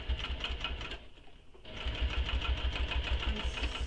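A sewing machine stitching around the edge of a handmade mini crossbody bag, a rapid steady mechanical chatter that pauses briefly mid-way and then resumes, close and clear.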